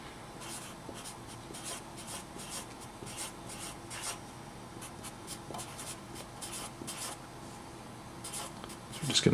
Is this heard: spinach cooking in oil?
no